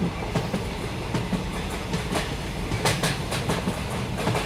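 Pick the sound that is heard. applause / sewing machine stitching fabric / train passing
train passing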